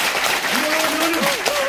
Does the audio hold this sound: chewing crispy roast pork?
no